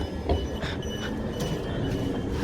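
A Southern train at Ewell East station, a continuous loud rumble of rolling stock with wheel noise and faint squeals, close by and filling the whole stretch.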